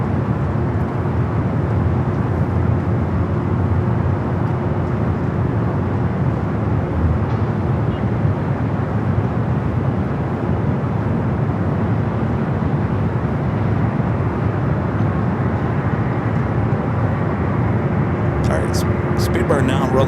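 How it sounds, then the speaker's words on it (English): A Speedbird airliner accelerates for takeoff on runway 25 right at Los Angeles LAX, a steady distant engine roar rumbling evenly throughout with a brief higher whine near the end. "Speedbird now rolling down at 25 right"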